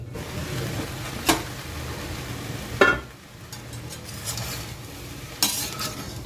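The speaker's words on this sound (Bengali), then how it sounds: "ভালোভাবে সব মশলার সাথে আলু পেঁয়াজের সাথে ঢেঁড়সটা মিশিয়ে দিচ্ছি" Okra, potato and onion with spices being stirred in a wok, a soft continuous sizzle broken by a few louder scraping strokes of the spoon against the pan, heard close with no voices.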